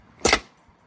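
A Jeep grille retaining clip pops loose with a single short, sharp snap, close and clear against near silence.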